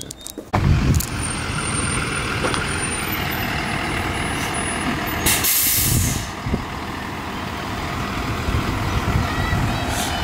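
School bus with air brakes at a bus stop: a loud, steady diesel engine rumble running throughout, with a sharp hiss of air brakes around the middle, close by, with no talking.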